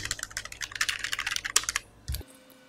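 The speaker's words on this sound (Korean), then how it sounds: "키보드만 제가 한번 잠깐 볼게요." Rapid typing on the keyboard of an MSI GT780 gaming laptop, a quick close run of light key clicks, followed by a short pause and one heavier tap.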